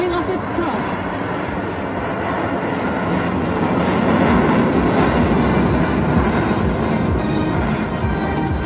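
A military jet climbing out at an Indian Air Force air show in Guwahati, Assam, produces a continuous, loud, broadband engine roar that swells slightly as it goes on.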